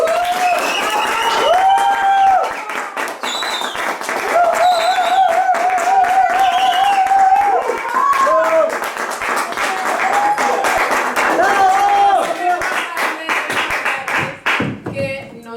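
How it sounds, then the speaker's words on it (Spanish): Audience applause at a Spanish-language storytelling and talk event, steady dense clapping sustained throughout over music or voices. "Quiero que el público le regale un fuerte aplauso al maestro Jota."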